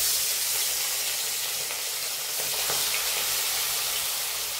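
Small mourala freshwater fish fry in hot oil in a wok, giving a steady, dense sizzle and crackle that runs close and continuous throughout with no one talking.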